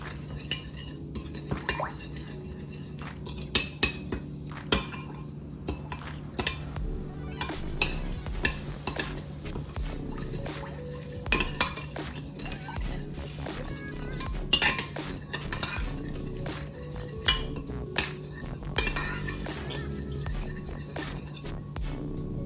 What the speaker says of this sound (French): On va ajouter maintenant la pâte d'ail, l'origan séché. On mélange.